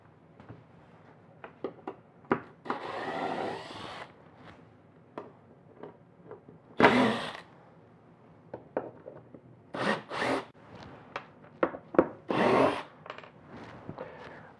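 Sanding a wooden cookie slab inlaid with multicolored epoxy, heard as a string of short scraping and rubbing bursts with a few longer, louder passes, close and alone with no talking.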